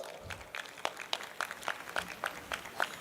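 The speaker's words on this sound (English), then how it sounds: "Come on, everyone, give him a huge round of applause." Sparse, rhythmic clapping from a small audience at a Founders' Day event, roughly three claps per second, faint and somewhat distant.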